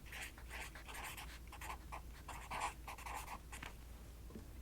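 A marker writes the words "good night" on paper, giving a string of soft, close scratchy strokes with short pauses between them. The strokes are quiet and intimate, and no one speaks.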